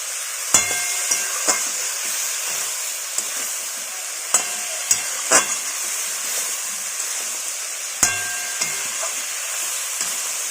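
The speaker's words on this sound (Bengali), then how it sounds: "আবারও আমরা বেশ কিছুক্ষণ মশলাটাকে কষিয়ে নেব" Spice paste sautéing in a pan for a cucumber and prawn curry, with a steady, close sizzle, a few sharp scrapes and clinks of the spatula scattered across it, and no talking.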